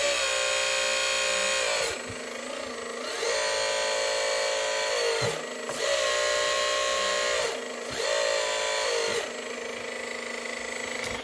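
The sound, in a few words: RC CAT 14M grader hydraulic rams steering front wheels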